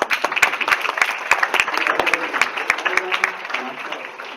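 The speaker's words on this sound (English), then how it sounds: "So I just want a round of applause for Dr." A conference audience applauds a speaker, a burst of distinct close hand claps that thins out and fades toward the end, with a voice murmuring underneath.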